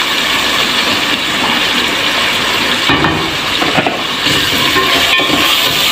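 Minced meat fries loudly with ginger and garlic in a pan for spinach keema curry, a dense continuous close-up sizzle and hiss with occasional stirring scrapes, no talk.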